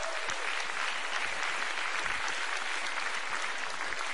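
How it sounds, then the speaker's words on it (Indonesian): Applause fills the MPR building in Jakarta as dignitaries arrive for the Indonesian presidential inauguration, a dense, even roar of many hands, somewhat distant and sustained throughout. "Kita berikan tepuk tangan."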